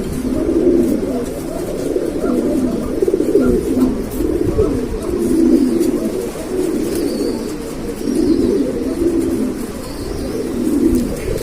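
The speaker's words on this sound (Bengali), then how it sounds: "এক জোড়া ব্ল্যাক লাহোরি, এটা বিশাল সাইজ।" A pair of large Black Lahori pigeons cooing steadily in repeated low, throaty rolling phrases that swell and fade in waves, close and fairly loud with no talking.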